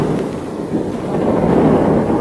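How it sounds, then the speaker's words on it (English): Steady rain pours outdoors while people walk through it, a dense, continuous hiss with a low rumble underneath that grows slightly louder toward the end, with no talking. "We are walking, in the rain."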